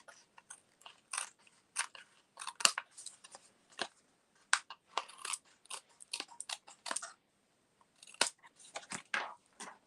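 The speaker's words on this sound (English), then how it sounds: "you can flip over and just trim the excess off" Scissors trim excess card stock close up in a crafting session, making a series of sharp, crunchy snips in irregular bursts separated by short silences, with no talking.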